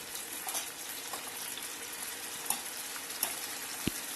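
Tomato paste fries in a pan for dhaba-style daal mash, a continuous moderate sizzle with a few sharp clinks and taps from a utensil, no talking.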